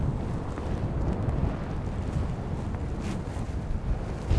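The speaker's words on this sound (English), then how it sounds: "It is so windy." Strong gusting wind on Dartmoor during stormy camping, a loud continuous rumble buffeting the microphone with no break across the whole stretch.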